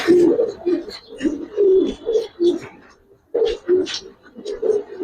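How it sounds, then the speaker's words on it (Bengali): Giribaz pigeons coo close by in repeated soft, throaty bursts, one after another with a short pause midway. "এটা মাদি কবুতর"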